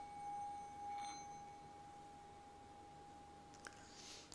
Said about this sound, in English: That's how you're supposed to ring bells.